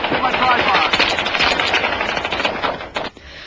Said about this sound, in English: The ATF had plenty of automatic weapon fire.